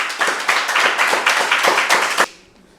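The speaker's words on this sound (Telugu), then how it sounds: "నాకు కూడా ఒకసారి గట్టి క్లాప్ చేద్దాం" Clapping from a gathering at a Telugu meditation talk, a close, loud burst of hands beating in a fairly regular rhythm for about two seconds, then stopping abruptly into quiet room tone.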